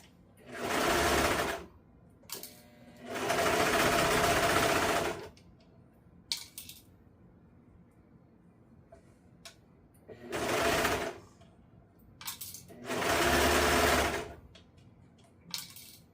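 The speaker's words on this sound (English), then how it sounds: "So now I can comfortably stitch this around here and not have to worry about the placement" A sewing machine stitching denim fabric, running in four distinct bursts of rapid mechanical whirring separated by quiet pauses and a few small clicks.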